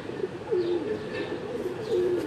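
A pet pigeon coos nearby in drawn-out, warbling phrases, two clear calls rising and falling, with faint chirps in the background and no speech.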